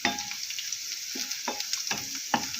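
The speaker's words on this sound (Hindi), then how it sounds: "ज़ीरे का, सफ़ेद ज़ीरा। इसको अब हम इसको फ्राई कर लेंगे।" White cumin seeds fry in hot oil for a tadka, a steady close sizzle broken by a few sharp pops and stirring scrapes.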